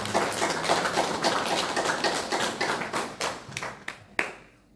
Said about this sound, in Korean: 박수로 격려해 주십니다